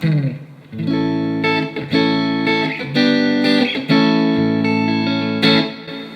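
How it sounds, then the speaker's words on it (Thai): An electric guitar plays chords and single notes through a Vox VT40X amplifier with a clean, slightly reverberant tone, each strum ringing out before the next. "อันนี้คือเสียงคีนนะครับ"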